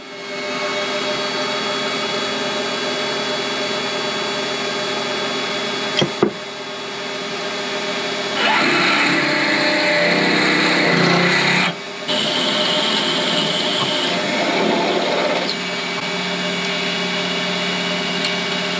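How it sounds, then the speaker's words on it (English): A drill bit boring into metal on a mini lathe. The motor whines steadily, then the cutting noise turns rougher and louder midway for several seconds before it settles back to the steady whine. "as I was drilling there was a sudden change in noise"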